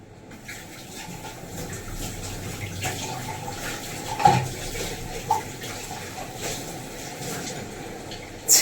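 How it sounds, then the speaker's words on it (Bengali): Running tap water streams steadily over a mixer grinder jar being rinsed at a kitchen sink, with a few sharp knocks of the jar against the basin, moderately near and without talk. "তার আগে মিক্সির বাটিটা ধুয়ে নিয়ে"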